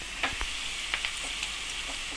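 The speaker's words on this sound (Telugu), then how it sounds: "ఉల్లిపాయ ముక్కలు అయితే చక్కగా వేగిపోతున్నాయండి." Onion pieces fry in a pan with a steady close sizzle, broken by a few sharp pops and crackles, no voices.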